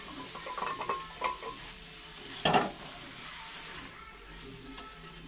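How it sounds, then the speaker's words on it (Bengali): Boiled young jackfruit and potatoes stir-fried with spices in a pan: a steady close sizzle with repeated scraping and stirring strokes and occasional utensil knocks, one louder scrape in the middle. "প্রেশার কুকারে যে হিচড়া আলোটা সিদ্ধ করে আমি এটা ঢেলে দেবো এটাকেও কষতে থাকবো ভালো করে"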